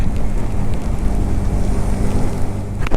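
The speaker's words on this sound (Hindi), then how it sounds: "बारिश स्टार्ट हो गई वापस से।" Monsoon rain falls in Madhya Pradesh during a motorcycle trip, a loud, steady, close hiss of downpour with a low rumbling wash underneath and no talking.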